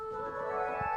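A steady, bright pipe organ tone from the Nazard stop on the swell division holds one chord with a reedy, flute-like edge, sustained evenly for the whole moment without any break.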